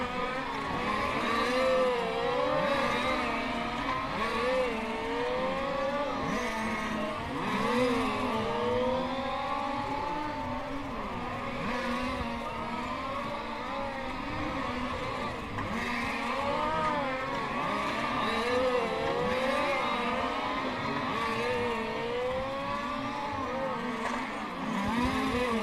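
Race cars lap a hot track during practice and qualifying, their engines whining and rising and falling in pitch as they pass one after another, fairly distant and continuous.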